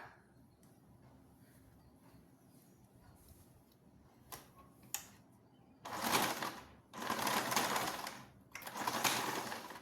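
A sewing machine stitches joined fabric strips for a round-neck nightie, with bursts of fast mechanical whirring after a few soft clicks and handling noises. The passes are close and fairly quiet.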